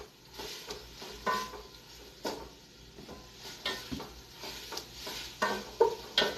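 A big spoon stirs French lentil soup with sausage in a pot, soft scraping strokes and gentle bubbling sizzle recurring at an uneven rhythm, close and moderately quiet.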